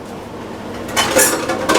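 A crock pot lid set down on a slow cooker of beef stew, a short clattering ceramic clink followed by a second light knock, close and moderately loud against a quiet kitchen background.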